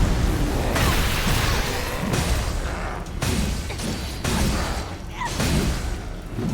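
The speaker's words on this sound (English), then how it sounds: "With as many explosions as I can muster." Repeated bursts and booms of explosions in the video game Code Burger, loud and dense, arriving in waves every second or so over a busy, continuous action-game soundscape with no talking.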